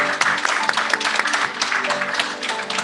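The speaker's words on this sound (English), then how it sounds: "let's all give a round of applause for Madeleine as well." An audience claps at a writing awards ceremony, a dense run of many hands applauding steadily at close range for the whole stretch.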